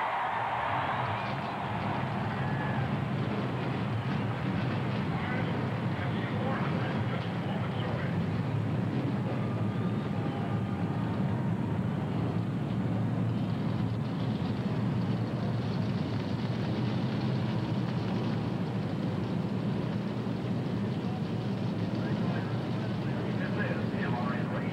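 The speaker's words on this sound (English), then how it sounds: "Gentlemen, start your engines." NASCAR stock car engines start and rumble in a continuous loud roar at Daytona during the 1992 Pepsi 400, with a crowd and announcer's voice mixed over the engine noise.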